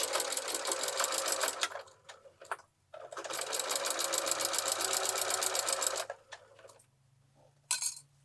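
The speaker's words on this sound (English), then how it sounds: "we are going to go and sew 1/2 inch seam allowances" Sewing machine stitching half-inch seam allowances on an insulated reusable bag, running in two long steady bursts of rapid needle clatter with a pause between and a brief final burst, close and fairly loud.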